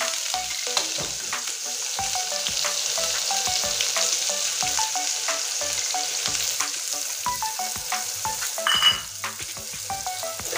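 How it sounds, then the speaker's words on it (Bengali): Chopped onions frying in hot oil for a fish kalia with potatoes, a loud continuous sizzle with frequent sharp ladle scrapes and clicks against the pan, heard alone without any talking. "আর এখানে আছে কুচানো পেঁয়াজ, এটা দিয়ে দিচ্ছি তেলে।"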